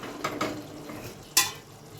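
Fried rohu fish pieces go into a simmering potato curry in a Bengali-style kitchen, giving two soft plops followed by a sharper splash and brief sizzle under low cooking noise.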